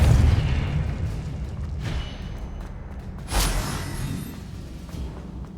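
A Confringo fire spell goes off in Hogwarts Legacy, a dull booming blast with a whooshing burst over steady in-game background rumble, loudest near the middle of the clip.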